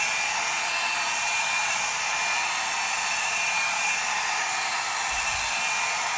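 A warm hair dryer blowing steadily and close by, a constant airy whoosh with a faint high whine that never changes level, with no voices.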